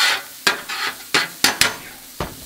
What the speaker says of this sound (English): Suppose I can even use my spatula to scrape that burger residue off the griddle top.